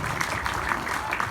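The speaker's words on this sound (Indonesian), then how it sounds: "saya boleh minta tepuk tangan untuk semua yang hadir hari ini" Audience applause at an Indonesian cinema event, a steady wash of clapping from a crowd, fairly loud and unbroken for the whole moment.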